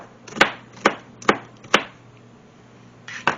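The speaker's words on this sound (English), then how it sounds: "You're just going to cut it into little cubes" A knife chopping food into small cubes on a cutting board, four crisp evenly spaced chops followed by a pause and two more, close and clear in a quiet kitchen.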